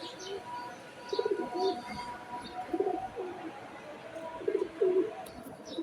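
Cooing from a pair of silver pigeons in a coop, including a hen sitting on eggs, comes as a few soft, low, rolling phrases at moderate distance over a steady background hum, with faint chirps higher up.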